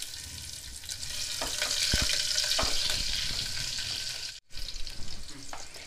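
Green chillies dropped into hot ghee with spluttering mustard seeds, a loud close sizzle with crackling pops and stirring, briefly cut off before resuming.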